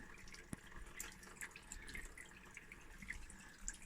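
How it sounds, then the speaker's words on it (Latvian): Pumped water drips and trickles back down into a rural well shaft in deep winter cold, scattered small drips and splashes at irregular intervals over a faint liquid hiss. "Šitas, kas izpumpētais ūdens līst iekšā."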